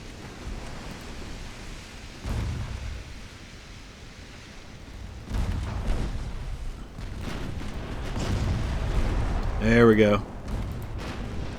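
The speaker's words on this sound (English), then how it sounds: "We do need to start firing our secondaries at this torpedo boat that's coming at me." Warship secondary guns boom in UA: Dreadnoughts against an approaching torpedo boat, heavy low thumps rolling through a steady rumbling battle din while someone talks briefly over it.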